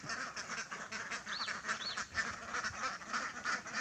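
Several ducks by a rice field quack and honk in a faint, busy chorus, overlapping calls continuing throughout at a moderate distance.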